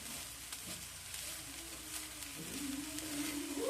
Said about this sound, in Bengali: চুলার তাপটা মিডিয়ামে রেখে নারকেলের সাথে গুড়টা আস্তে আস্তে মিশিয়ে নিতে হবে।